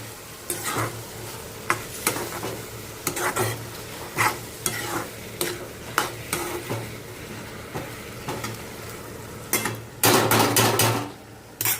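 Vegetables frying in oil over low heat in a home kitchen, a steady sizzle broken by repeated clanks and scrapes of a spoon against the pot, close and fairly loud, no talking.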